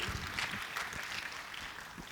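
A conference audience claps to welcome a speaker to the stage: a short, dense burst of applause from a room full of people, steady and moderately loud throughout.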